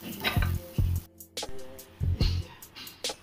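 Prawn stuffing for stuffed pointed gourd hits a hot pan with bursts of sizzling and clattering, several separate loud splashes of frying broken by brief pauses.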